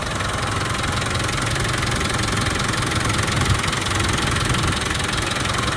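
A classic Land Rover Defender 90 engine idling steadily with a constant low rumble and rhythmic knocking throughout, close and loud, with no voices.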